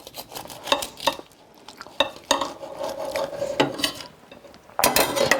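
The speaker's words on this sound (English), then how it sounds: "Let me cut this in half." Knife sawing and scraping through an air fryer turkey and cheese melt on a plate, a series of close, crisp crunches and clinks, louder at the end, with no talk.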